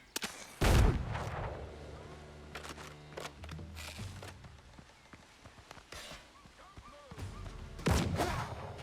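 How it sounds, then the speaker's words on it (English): Gunshots in the video game Windrose: two heavy, booming reports stand out near the start and end, with scattered sharper cracks and softer thuds between them. "Sounded like someone was shooting at us from over here."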